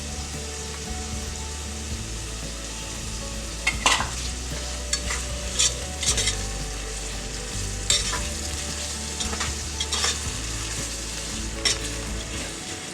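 A spoon stirs a vegetable biryani mixture in a pot over a steady sizzle of frying. Occasional scrapes and clinks against the metal sit close and distinct.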